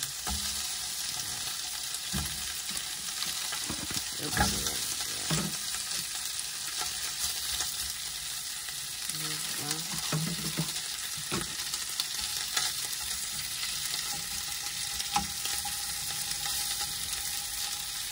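Food frying in a pan at a campsite, a continuous loud sizzle with occasional clinks and scrapes of stirring throughout.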